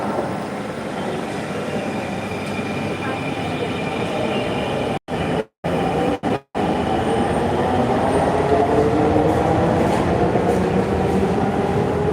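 A metro train comes into an underground station with a continuous, loud rushing rumble and a rising whine of wheels on rails, briefly cut out a few times midway.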